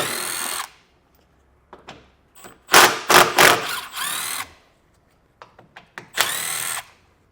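Cordless power drill backing out 10mm head bolts from a 2018 Jeep Cherokee underbody panel, several short whirring bursts of the motor with brief pauses and small clicks between them, close and loud.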